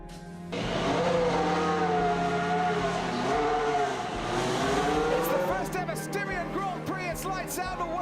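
Formula 1 cars launching off the grid at the start of the Austrian Grand Prix at the Red Bull Ring, a loud sustained roar of many engines revving and rising in pitch together, with a commentator's voice running over it.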